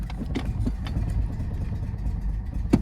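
A 1995 Ford Mustang engine struggling to idle as the throttle is worked, a rough uneven low rumble with scattered clattery bursts, close by and fairly steady throughout.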